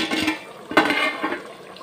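A plate is set over a cooking pan of chicken gravy, giving a brief clattering clink among soft rustling and faint sizzling, close by and short, with no voice.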